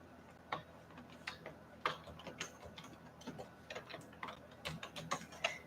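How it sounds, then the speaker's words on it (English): Irregular clusters of crisp keystrokes on a computer keyboard, close and fairly quiet, with short pauses between bursts and no speech. "Let me type it out again for you just to help you."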